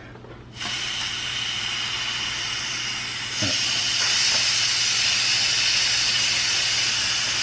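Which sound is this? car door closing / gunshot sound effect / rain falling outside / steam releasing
steam releasing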